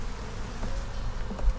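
Honey bees buzz steadily around a hive after a swarm has landed, a dense continuous drone close by with no talk.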